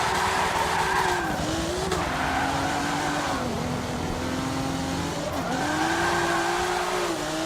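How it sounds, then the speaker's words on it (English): A car drifting in Forza Motorsport 7 with an angle kit, its engine droning steadily while tires squeal in long wavering sweeps, loud and continuous with no talk. "Let's drift right here."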